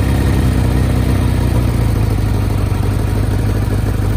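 A Kawasaki GPZ 1100 fuel-injected motorcycle engine idles steadily and close up, with a low, even throb and light mechanical clatter running the whole time without any voices.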